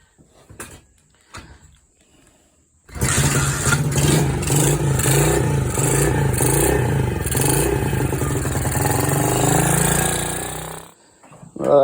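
An SSR SC70C motorcycle, recovered after flood damage, starts after a few light clicks and then runs steadily at a rough, clattering idle close by for about eight seconds before cutting off.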